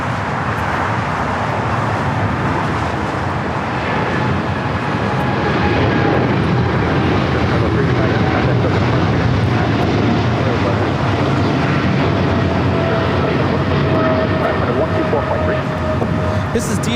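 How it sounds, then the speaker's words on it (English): A brand new DHL Boeing 777 freighter takes off from LAX, a broad, steady jet roar building slightly midway and holding loud and continuous, with faint background traffic hum beneath. "operated by Airlogic 385, taking off to Leipzig, Germany on the 777 freighter, brand new"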